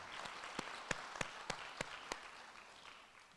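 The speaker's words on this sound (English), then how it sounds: "can you give yourselves a round of applause, the postgraduate students here." Scattered applause from postgraduate students at a university welcome event, a few distinct individual claps standing out over a faint, soft room of clapping that dies away.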